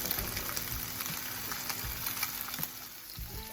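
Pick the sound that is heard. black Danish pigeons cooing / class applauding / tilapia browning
tilapia browning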